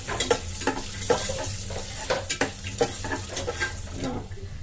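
Cashews and raisins fry in a pan with a soft continuous sizzle, broken by repeated scraping strokes of a spoon stirring them at a close, uneven pace.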